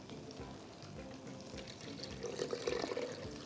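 Water poured into a pot with a little salt while preparing beef seekh kabab, a steady close liquid rush with splashing that swells toward the end over a low kitchen rumble.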